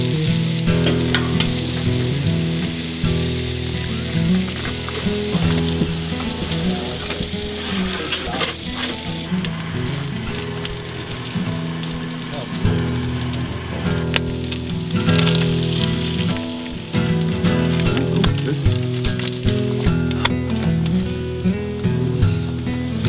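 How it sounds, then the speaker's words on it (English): A couple pounds of breakfast sausage sizzle on a hot Camp Chef griddle, a loud continuous crackling fry with scraping and stirring noises throughout, close up with no talking. "Figure we get on our Camp Chef griddle here, got it going nice and hot."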